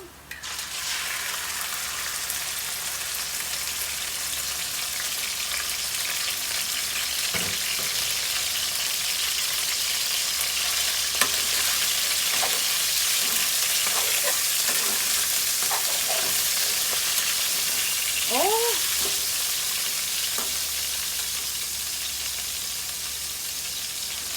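Purple eggplant and pork stir-frying in a pan, a loud steady sizzle running the whole time with occasional spatula scrapes and a faint rising whistle-like tone near the end, close up, no talking.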